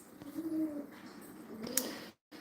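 A pet bird gives a soft, close, low cooing call, one drawn-out coo followed by a few quieter short sounds and a brief squeak, with a moment of silence near the end.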